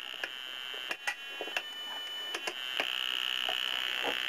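Homemade electronic noise-maker circuit giving a steady high-pitched whine with faint upper harmonics as its capacitance is adjusted, joined by scattered clicks and ticks, moderately loud and alone without talk.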